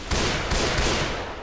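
Rapid bursts of gunfire from the zombie shooter video game Left 4 Dead 2, dense overlapping shots filling a brief loud volley.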